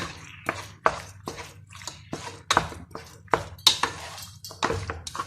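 Spinach chicken masala stirred in a pan, a spoon knocking and scraping against the metal in a steady run of about a dozen sharp clinks and scrapes, close and fairly quiet, with no talk.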